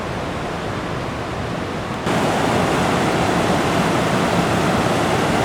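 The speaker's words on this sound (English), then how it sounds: "And there's Piute Creek." Piute Creek in Kings Canyon rushes past in a dense, steady roar of flowing water, close and loud, growing stronger partway through.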